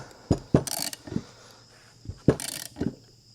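A ratchet snugs a suspension bushing against the wishbone of a 1967 Volvo 1800S, giving a few short, close clicking bursts in two separated groups with quiet gaps between.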